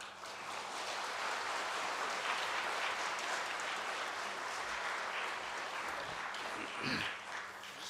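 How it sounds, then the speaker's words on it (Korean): A church congregation claps loudly in welcome as the pastor comes forward, a dense sustained applause that fills several seconds before tapering off near the end. "목사님 나오실 때에 우리 크게 박수로 환영을 하도록 하겠습니다."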